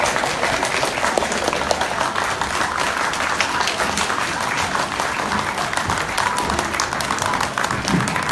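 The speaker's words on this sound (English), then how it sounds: "Get on your feet and give them a round of applause." Sustained applause from a large convention audience fills the whole stretch, dense steady clapping with crowd noise and cheers, loud and continuous.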